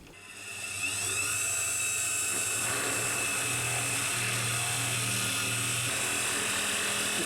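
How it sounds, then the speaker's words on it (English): A steady, high-pitched mechanical whine of a drill boring into a wooden pen blank on a lathe, running continuously after a brief spin-up. "drill in about a centimetre or two and then drill out to let all the dust out"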